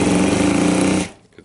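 DeWalt drill running in hammering mode after a carbon brush replacement, a loud, buzzing rapid rattle of the hammer action held for about a second, then cutting off and winding down.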